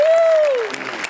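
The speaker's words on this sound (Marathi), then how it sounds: "श्यामेसाठी एकदा टाळ्या वाजवल्या पाहिजे." Brief audience applause at a Marathi comedy show, a wash of clapping beneath a sliding tonal voice-like sound that fades after about half a second.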